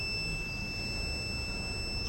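The buzzer on an industrial GSM gas leakage detector sounds a continuous, steady, high-pitched alarm tone over a low background hum.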